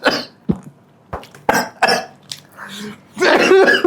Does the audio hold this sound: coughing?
yes